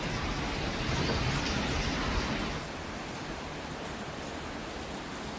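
Rain falls steadily outside an apartment in Korea, a dense broadband wash of patter that is louder at first and then settles to a slightly softer, even hiss.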